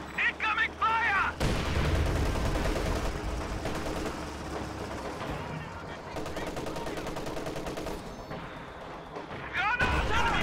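Gunfire and explosions crackle through a video game battle, with dense, sustained bursts of shots and blasts under frequent voice chat and commentary.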